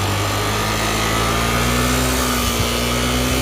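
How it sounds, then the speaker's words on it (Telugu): A new Activa scooter with a seized engine idles steadily and loudly nearby, a constant buzzing drone with a slight hum and no voices. "స్మోక్ సౌండ్ ఇంజన్ సౌండ్ వినండి ఒకసారి"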